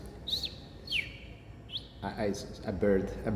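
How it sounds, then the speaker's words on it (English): Birds chirping indoors, a few clear, sharp, sweeping tweets in the first part, followed by a person talking over faint background sound. "Birds are flying inside this place, you can't believe it."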